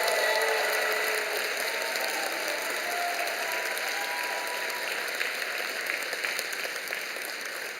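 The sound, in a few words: applause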